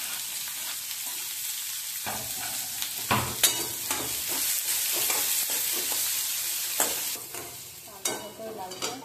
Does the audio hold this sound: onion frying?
yes